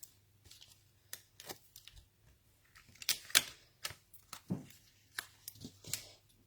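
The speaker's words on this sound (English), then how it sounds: "Trim that sticking out a bit." Paper card being trimmed during live crafting, a series of short, crisp snips and cuts spaced irregularly, fairly quiet and close with no talking over them.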